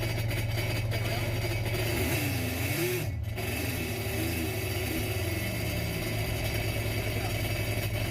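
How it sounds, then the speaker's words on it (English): Sea-Doo Switch jet boat engine running during winterizing, a rough droning idle rising and falling in two revs midway, fairly close and steady. "you want to rev the engine once or twice to blow out the excess"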